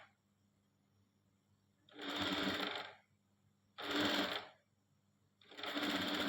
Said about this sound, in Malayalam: ഒരു മടക്കിലേക്ക് ഞങ്ങൾ സ്റ്റിച്ച് ചെയ്ത് കൊടുക്കണം.